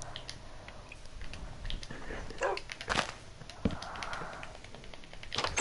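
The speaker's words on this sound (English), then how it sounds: "this fucking dog better get here right now" A tamed dog in Minecraft gives a few short barks mixed with scattered clicks and tapping sounds at moderate level.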